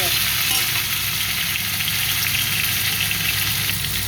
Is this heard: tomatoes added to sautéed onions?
yes